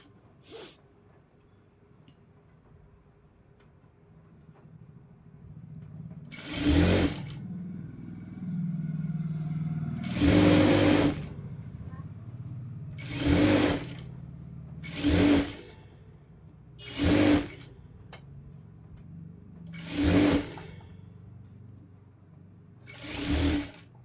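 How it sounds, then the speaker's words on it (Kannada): A sewing machine stitches the back piece of a blouse in a series of short whirring bursts, about seven runs of a second or so each, separated by quiet pauses with faint handling sounds. "ನೋಡಿ ಈ ರೀತಿ ಇಟ್ಕೊಂಡು ಸ್ಟಿಚ್ ಹಾಕ್ತೀನಿ ನಾನು."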